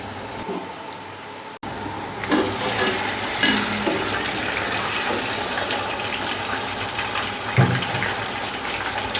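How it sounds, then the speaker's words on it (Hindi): Chicken pieces frying with ginger garlic paste in a pot for chicken korma, a continuous loud sizzle with occasional stirring clatter, starting after a brief pause near the beginning; no talk. "अब हम इसके अंदर चिकन डाल देंगे"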